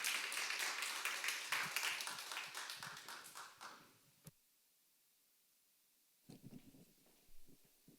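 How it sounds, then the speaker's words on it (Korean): A church congregation claps together, a loud burst of many hands that fades out after about four seconds, leaving near silence and then some faint scattered taps and small noises. "박수 한번 우리 드리겠습니다."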